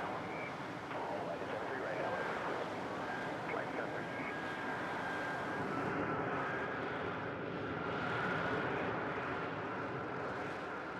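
An F-35B fighter jet near an aircraft carrier produces a faint, steady engine roar and rumble lasting the whole stretch, with a voice speaking over it.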